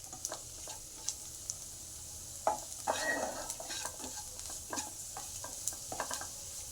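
Ginger, chili and garlic paste sizzles quietly in a pan of golden-brown onions for a cashew curry, with repeated scraping stirs and light clinks of a spoon against the pan.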